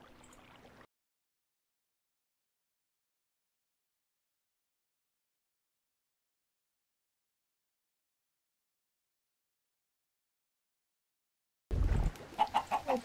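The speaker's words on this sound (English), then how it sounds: "A bunch of chickens." Chickens cluck in the Minecraft video game with a modded pack, a short run of clucks arriving near the end after a long stretch of silence, preceded by a faint brief sound at the start.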